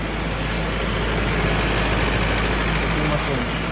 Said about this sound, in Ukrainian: тарахкотять форсунки